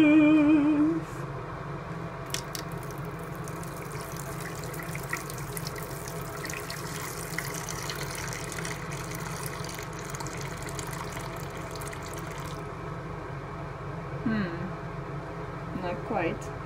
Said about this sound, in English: in 20 minutes I need to pour down the drain some hot water